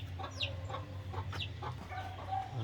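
Chickens clucking on a farm, a steady run of short overlapping clucks and calls from several birds close by, with no talk.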